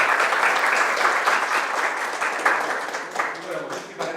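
A lecture audience applauding, a dense continuous wash of many hands clapping at moderate loudness that thins slightly toward the end, with a voice speaking faintly beneath.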